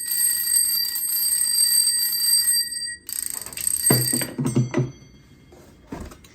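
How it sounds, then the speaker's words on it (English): A bicycle bell fitted to an antique drum set rings in a rapid, trilling burst that stops abruptly, then a series of low hollow knocks and thuds follow close by. "Came with a bicycle bell that works well as a doorbell."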